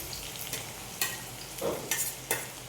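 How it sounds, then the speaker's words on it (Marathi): Chopped onions hit hot oil in a pan for a quick kurdai and onion dish, giving a steady close sizzle with a few sharper stirring clatters and spits, no voices. "आता आपण कांदा टाकतोय."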